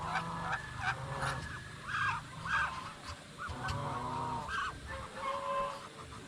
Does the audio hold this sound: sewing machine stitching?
no